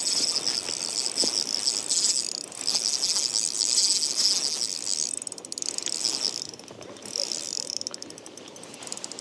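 A fishing reel is cranked quickly while ice fishing for perch, producing a close, continuous whirring ratchet-like buzz with a high metallic tone that pauses briefly and resumes, no talking.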